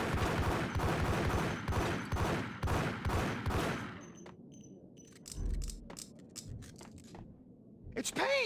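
Rapid gunfire rattles in a dense volley during a Max Payne shootout, then gives way to scattered sharp single shots and impacts at a lower level.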